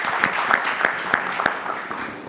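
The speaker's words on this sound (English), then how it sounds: "Let us give him a round of applause." An audience at a chapter session in Muscat, Oman applauds, a loud dense burst of clapping with some sharper individual claps standing out near the start before it slowly tapers off.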